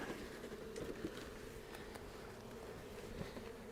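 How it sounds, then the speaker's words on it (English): Bees at a spring beehive make a faint, steady buzzing hum during brood box work, with scattered light knocks and rustles nearby and no voices. "There are some bees here,"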